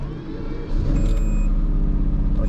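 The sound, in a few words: Lamborghini V12 engine running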